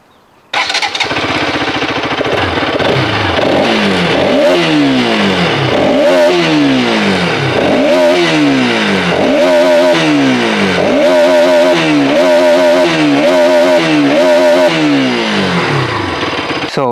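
Bajaj Pulsar RS200, a liquid-cooled single-cylinder fuel-injected motorcycle, starts and idles loudly up close, then is revved in repeated blips that rise and fall, growing quicker and more frequent toward the end.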